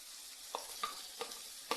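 Red onions added to red eggplant and carrots frying in a pan for a chicken gizzard street-food dish; a faint, steady sizzle is broken by four sharp stirring clicks and scrapes spaced about half a second apart.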